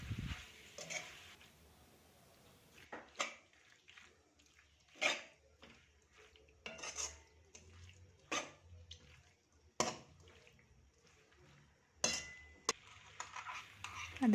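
Boiled macaroni pasta being stirred through a pan of Indian-style sauce, with a run of sharp spoon scrapes and clacks against the pan arriving in irregular bursts over quiet background hiss.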